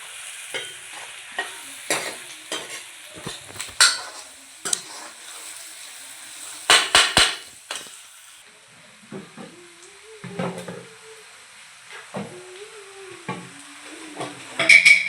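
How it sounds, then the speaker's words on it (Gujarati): Ginger, chilies and garlic fry in a pan for a homemade cashew masala curry, stirred in quick scraping strokes over a steady close sizzle, with occasional clinks of the spoon against the pan. "આદુ મરચાં લસણ મસ્ત શેકાઈ ગઈ છે"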